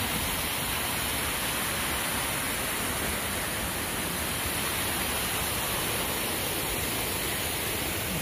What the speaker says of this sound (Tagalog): yan po yung source ng waterfalls